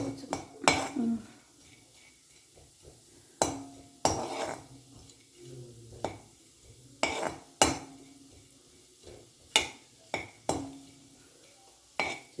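Roasting peanuts are stirred in a metal pan, giving sharp scraping clanks and clinks at irregular intervals, close and fairly quiet, with faint background sound between strokes.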